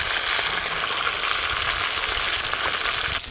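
Katla fish frying in hot oil with a loud, steady, dense sizzle that crackles evenly throughout and stays close, with no voices.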